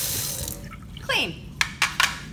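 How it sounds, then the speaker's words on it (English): A tap runs while hands are washed, a brief rush of water that splashes and trickles close by. A voice talks over part of it. "the first thing that we need to do is wash our hands."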